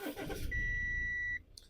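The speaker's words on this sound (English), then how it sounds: "again I'm going to switch off the car and start the car." An Audi A4 with an AdBlue fault starts up with a brief cranking burst that settles into a running engine. A steady warning chime sounds on top and cuts off near the end.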